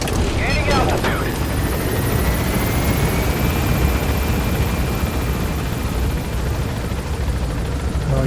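A helicopter in Metal Gear Solid V lifts off with a loud, dense low rotor roar and a rising engine whine, sustained and close throughout.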